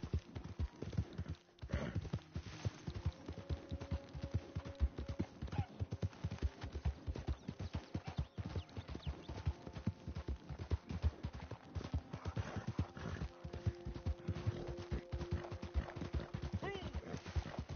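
Horse hooves clip-clop in a steady, continuous rhythm while riding in the video game Red Dead, close and prominent throughout, with people talking over the top.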